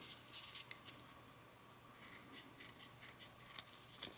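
Cheap scissors snip through kinesio tape in a run of quick, light cuts and rustles, with several short bursts close up and no talking.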